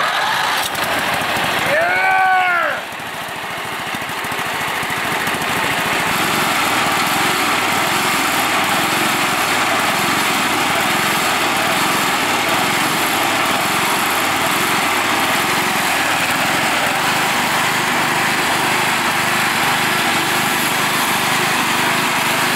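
A stock off-road lawn mower engine cranks briefly, then fires and settles into a steady, loud, buzzing run close by that continues unbroken to the end, with no voices over it.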